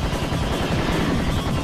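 Dense, continuous gunfire from Serious Sam HD: First Encounter on the Oasis level, rapid loud shots blending into a constant roar with no break.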